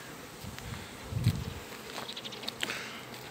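A small swarm of honeybees buzzes outdoors, a soft continuous hum with a few individual bees droning past close by.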